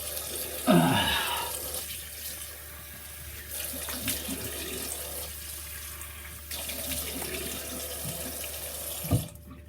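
Water runs steadily from a tap, splashing close by with a brief gush at the start and a short clatter near the end.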